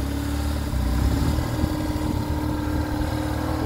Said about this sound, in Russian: Мотоцикл на ходу.